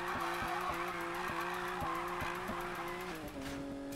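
Sustained, loud tire squeal from a car drifting in the racing game Need for Speed Payback, a steady whining screech with a pitch shift near the end, continuous throughout and heard alone.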